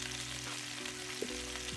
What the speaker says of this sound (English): time to start with the frying